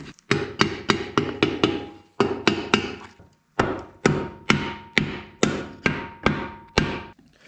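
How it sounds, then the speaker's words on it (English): A hammer seats a bearing race in an M5OD gearbox with crisp, close metallic strikes in quick rhythmic bursts, roughly two dozen blows separated by short pauses. "Secure the bearing race with the help of a hammer."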